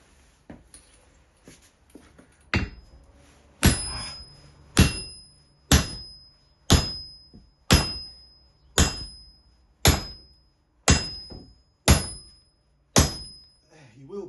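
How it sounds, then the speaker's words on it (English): An old axe head is struck with a big hammer, eleven loud metallic blows at a steady rhythm about one second apart, each ringing briefly after the hit, close up after some quieter handling noises. "So I found a bigger hammer."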